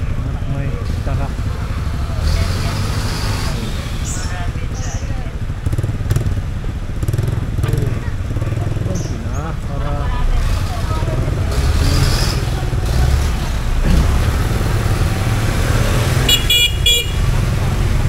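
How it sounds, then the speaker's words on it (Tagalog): Road traffic heard from a moving motorcycle with cars and an oncoming truck, a steady low engine and wind rumble throughout with brief horn toots, under talk. "traffic din dahil may kasalubong na truck"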